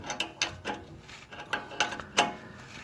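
An adjustable crescent wrench is cranked on a sway bar link of a 2004-09 Dodge Durango, making a series of faint metallic ratcheting clicks and clunks in irregular bursts with no speech.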